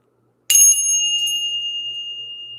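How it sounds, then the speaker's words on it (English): A single bright bell strike rings out after a short silence, its clear metallic tone sustaining and slowly fading away. "Let's ring the bell."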